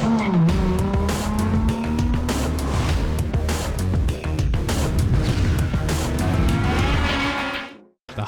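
Need for Speed Underground on PS2: a racing car engine roars loud and close with rising and falling revs, while tires squeal and skid through turns, ending in a sudden cut to silence near the end.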